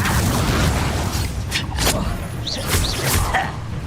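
The Confringo fire spell is cast in Hogwarts Legacy combat, giving a booming, whooshing blast with thuds and crashes amid dense, continuous game noise.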